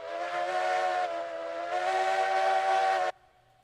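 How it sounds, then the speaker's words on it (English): A multi-chime steam locomotive whistle from a train video game blows loud and steady for about three seconds, a chord of layered tones, then cuts off abruptly into quiet. "So we got a multi-chime whistle"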